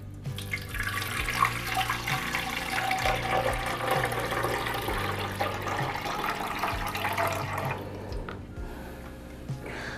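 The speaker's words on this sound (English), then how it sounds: "So I'm going to pour this into the Breville water tank." Filtered water poured steadily into the tank of a Breville Barista Express espresso machine during descaling, a continuous splashing and trickling fill that tapers off near the end, with no talking.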